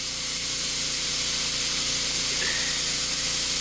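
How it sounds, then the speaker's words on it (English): An inexpensive HVLP paint spray gun fed by a compressor releases compressed air without spraying paint, giving a steady, loud broadband hiss that runs unbroken for the whole stretch. "it's not spraying any paint, but it's letting the air out"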